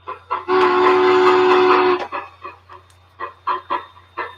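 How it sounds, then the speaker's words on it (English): Chuffing from a ScaleTrains model steam locomotive: a sustained loud burst of dense, hissing noise for about a second and a half, followed by a series of evenly spaced chuffs, with a steady low hum underneath throughout. "That sounds like live Steam sounds, like those like ride on small things."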